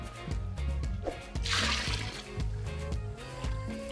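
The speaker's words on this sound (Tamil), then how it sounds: "மொத்தம் 6 லிட்டர் தண்ணி ஊற்றுறேன்." Water pours and splashes into a large pot, six litres for a village-style Chettinad chicken biryani, as a moderate trickling slosh that rises briefly and sits beneath louder background music.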